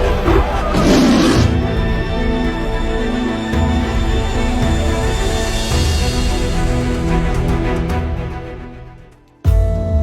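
A lion roars loudly and continuously through a dense, rumbling background, the sound holding steady for several seconds before cutting off abruptly near the end, with no speech over it.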